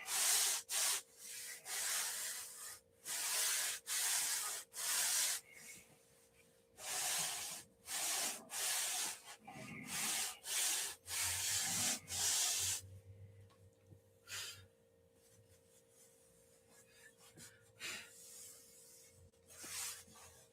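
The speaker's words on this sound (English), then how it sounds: "So we'll sand that straight." Hand sanding of a model aircraft fuselage part, rhythmic rasping strokes repeating steadily at close range, later turning to softer, sparser rubs with a low hum underneath.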